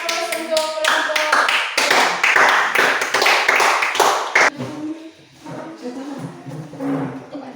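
Applause for a group of students in a classroom, a burst of many hands clapping loudly for several seconds before tapering off into scattered claps and room murmur.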